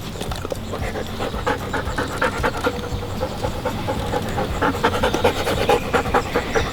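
A working gun dog pants steadily and close by, quick rhythmic breaths that carry on without a break throughout, with no talking over them.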